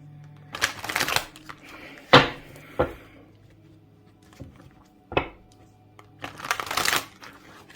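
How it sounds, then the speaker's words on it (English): Tarot cards are shuffled in several quick riffling bursts with pauses and soft taps between them, close and clear with no talk. "Just gonna give this a bit of a shuffle."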